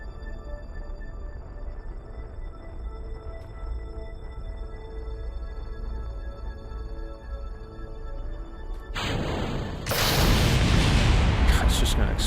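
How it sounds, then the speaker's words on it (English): A rocket blows up in the video game Kerbal Space Program: after a steady low engine drone with tonal whine, a sudden loud broadband roar bursts in near the end and stays dense and crackling. "It's just gonna explode no matter what"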